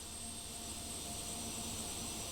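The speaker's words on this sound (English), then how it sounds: "And we just fired up engine number 2." A Carenado Premier 1A jet engine runs in the X-Plane 11 flight simulator, a steady high-pitched turbine whine with a constant roar underneath, unbroken and even throughout.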